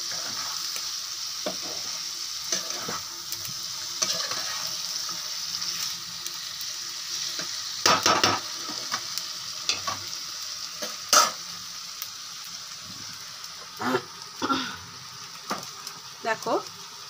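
Potatoes stir-fry in a hot pan, a steady sizzle broken by repeated scraping and clattering spatula strokes, close and fairly loud.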